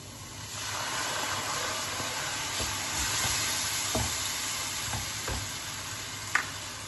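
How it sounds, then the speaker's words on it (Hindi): Half a cup of milk hits flour in a hot saucepan, giving a continuous close sizzle and hiss with a few soft stirring knocks against the pan. "अब मैं डालूंगी इसमें 1/2 कप दूध का"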